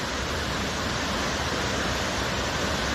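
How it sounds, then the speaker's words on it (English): Burney Falls waterfall roaring as a steady, loud, broadband rush of falling water with no pauses, heard from close by along the trail. "Real picturesque, real beautiful waterfall"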